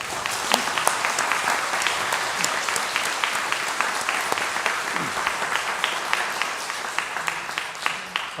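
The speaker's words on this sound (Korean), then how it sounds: "한번 감사의 박수 하도록 하겠습니다" A church congregation applauds during a Sunday worship service, steady dense clapping sustained throughout at moderate loudness, with a few sharp individual claps standing out.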